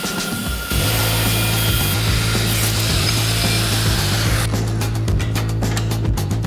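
Cutting a lump off a forged Damascus steel knife blank with a power tool, a loud, continuous abrasive grinding whine that starts abruptly and holds steady.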